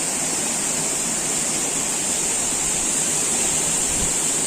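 An unnamed waterfall in a valley beside a stone quarry, a loud, constant roar of falling water with a faint hiss on top, steady from start to finish and heard alone.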